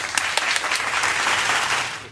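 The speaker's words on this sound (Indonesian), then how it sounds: "Mantap, tepuk tangan dulu." Brief applause from a small group at a talk with a former marching band member, a dense burst of clapping that starts at once and holds steady, loud and close.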